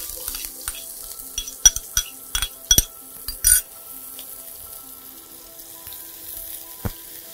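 Chopped onion frying in a pan for a Bengali radish-greens and prawn poppy-seed dish, a steady soft sizzle with a few sharp scrapes and clinks of a spatula stirring against the pan.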